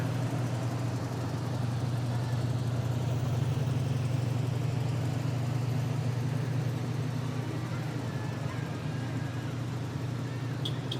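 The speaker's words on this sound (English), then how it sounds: "I believe this is a 1968 tractor that they're driving here" A 1968 tractor drives along in a community parade, its engine giving a steady, low, moderately distant drone that holds throughout, with light crowd ambience around it.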